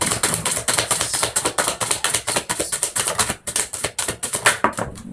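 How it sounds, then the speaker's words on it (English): Tarot cards being shuffled hard, a rapid run of crisp, close riffling flutters and slaps with a steady clattering rhythm, loud and alone, as cards spill out of the deck. "Whoa, a whole heap of cards come flying out here."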